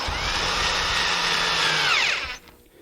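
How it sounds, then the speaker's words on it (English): Power drill whirring loudly at close range as it drives pocket hole screws set with a Kreg jig while a router table is built, a steady high whine for about two seconds that stops abruptly. "Then using the Kreg pocket hole jig, I drilled the pocket hole screws, and we can tighten them up."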